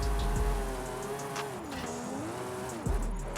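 A Toyota GR Supra Formula Drift car on drift tires in Forza Horizon 5 holds a steady, wavering engine drone while its tires squeal. A sharp pop and surge of revs come near the end.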